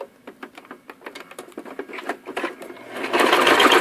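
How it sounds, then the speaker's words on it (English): Sewing machine stitching a 1/4 inch seam across a folded zipper pouch, a fast rapid patter of needle strokes that speeds into a dense continuous whir near the end, close and alone. "And sew across that 1/4 inch."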